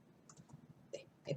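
A few quiet clicks from a single key being pressed on a computer keyboard while working in a spreadsheet, faint and close, with short gaps between them.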